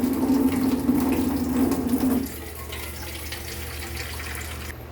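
Water pours steadily into a pot of sautéed mung bean soup with shrimp cubes, a loud rushing stream that stops partway, leaving a quieter background hiss.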